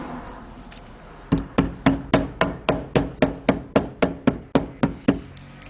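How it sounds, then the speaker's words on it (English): A rubber mallet drives a fork seal into a Kawasaki KZ650 CSR motorcycle fork leg, with about fourteen close, dull knocks in a steady, even rhythm after a quiet start. "one of your best friends in this situation is to have a nice rubber mallet handy and drive it in evenly"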